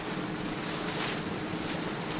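Rough open sea around a tugboat fleet at night, waves surging and washing continuously with wind gusting across the microphone, a loud, dense, unbroken roar with no voices.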